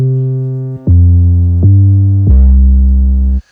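A Deluge bass sample playing dry, without saturation: a loud, sustained low synth line that steps through four notes over a few seconds and is heard alone.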